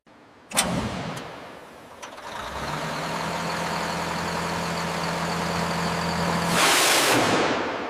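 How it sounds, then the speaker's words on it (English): A Merkava Mk4 tank's heavy engine cranks, catches, and settles into a loud, steady rumbling idle in a tank factory, with a brief rise in revs near the end. "The vehicle is cleared for engine start and systems testing."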